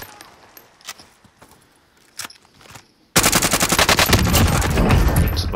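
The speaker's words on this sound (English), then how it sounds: "No, he's shooting them." Gunfire in Call of Duty: Warzone: a few scattered distant shots and clicks, then a sudden loud sustained burst of rapid automatic fire close by, crackling rhythmically to the end.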